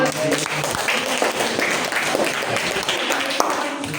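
Classroom applause after a student group presentation during a teacher's performance test, a loose patter of clapping hands with voices talking over it.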